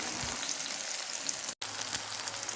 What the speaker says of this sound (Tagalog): umpisa na natin ang pagkikisa ng bawang, sibuyas at ampalaya